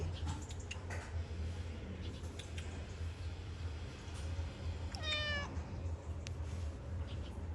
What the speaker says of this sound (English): Let's go see this cat.